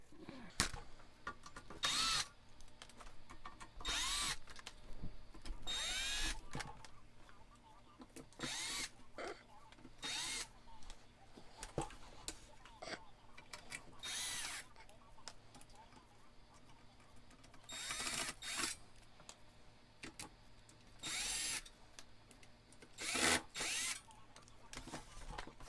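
A power drill backs screws out of a Bogen CC4201 commercial audio amplifier in short, separate whirring bursts up close, with quiet handling clicks and rattles between them.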